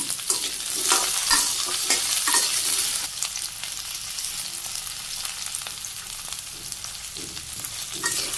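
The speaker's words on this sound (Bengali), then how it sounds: "তেলে আমি একটু জিরে দিয়ে দিলাম, একটু পেঁয়াজ কুচি দিলাম সামান্য, সবজি দিয়ে দিলাম" Cumin, onion, potato and vegetables sizzle in hot oil in a wok, a steady loud frying hiss with scraping stirs throughout and no voices.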